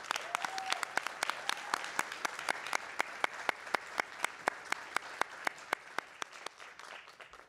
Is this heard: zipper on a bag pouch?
no